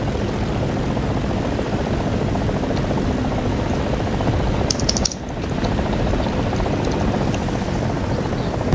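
Helicopter rotor and engine drone from the War Thunder video game, a steady loud whirring throughout with a brief dip midway.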